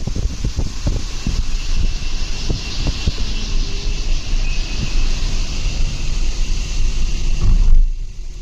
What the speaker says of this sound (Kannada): ಗಾಳಿ ಮಾತ್ರ ನೆಕ್ಸ್ಟ್ ಲೆವೆಲ್